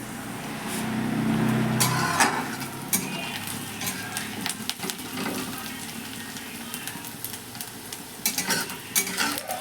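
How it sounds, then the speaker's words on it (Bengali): Onions fry in a pan with a continuous crackling sizzle. Frequent stirring scrapes and clacks of a utensil against the pan run through it, close and fairly loud. "পেঁয়াজটা ভাজি হয়ে গেছে"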